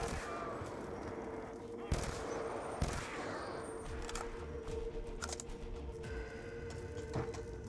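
Video-game gunfire in Call of Duty: Zombies on the Bus Depot map: a few sharp shots and short bursts crack over a dense, constant game soundscape.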